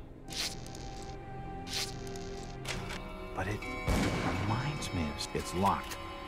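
Gunfire exchanged outdoors between cultists and police in Call of Cthulhu: Dark Corners of the Earth, sharp distant cracks and heavier bangs scattered irregularly over a constant game background hum.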